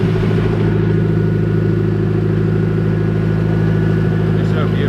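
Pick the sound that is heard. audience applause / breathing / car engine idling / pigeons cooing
car engine idling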